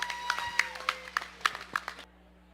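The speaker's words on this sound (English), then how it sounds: "let's give him a round of applause for that" Scattered hand claps and light applause from a crowd at a county fair 4-H and FFA swine show, a short uneven ripple of clapping that stops abruptly, heard over steady background hum.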